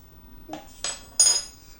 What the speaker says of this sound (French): je vais verser un peu avec la cuillère